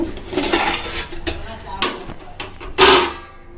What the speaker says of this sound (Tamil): இப்போ பிரியாணி ரெடி ஆயிடுச்சான்னு ஓப்பன் பண்ணி பார்த்துடலாம்.